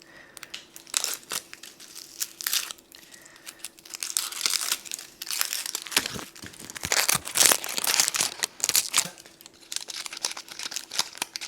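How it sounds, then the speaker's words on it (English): Dry onion skins are peeled off by hand with close, irregular papery crinkling and crackling. The rustling builds louder and denser in the middle, with no speech. "For the onions, you're just doing the outside. So I'm just gonna peel all this off"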